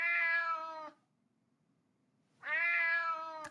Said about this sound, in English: can you not quiet your cat?